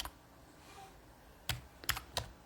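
A handful of keystrokes on a computer keyboard, four distinct clicks in the second half after quiet room tone, close and crisp.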